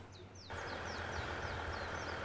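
A train pulls into a station in the railway game Station Master, a steady rumbling drone that swells in at half a second and holds, with repeated short chirping tones sounding above it.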